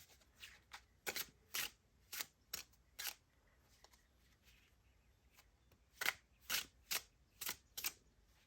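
Tarot cards are shuffled in quick, crisp bursts of riffling, about a dozen short flutters in two clusters with brief pauses between, close and clear.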